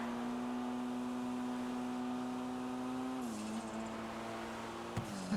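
A fast car's engine drones steadily in a roleplay driving game, a sustained hum that dips in pitch briefly near the end, with faint higher-pitched texture over it and no talk.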